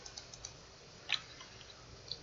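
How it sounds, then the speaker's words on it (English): Faint, sparse clicks of a computer keyboard as a word is typed into an Excel formula, a few soft keystrokes with one slightly louder tap, no voice. "You start typing that word and it pops up."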